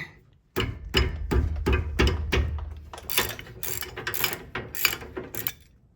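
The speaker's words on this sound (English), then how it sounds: "I'm using my longer ratchet because, again, these can be in there pretty tight" A long ratchet loosening a tight 18 mm brake bolt on a 2015-2022 Chevy Colorado/GMC Canyon: a close, rhythmic series of metallic clicks, steady at first, then quicker and sharper bursts toward the end.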